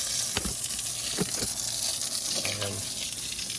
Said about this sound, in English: Once the water's off all the way, all you got to do is just spray this.